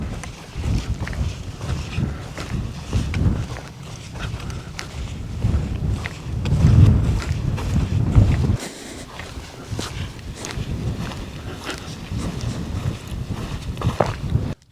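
Strong cold wind on the Kirk Fell summit in the Lake District buffets the microphone in loud, gusting rumbles that swell and ease throughout, with no speech.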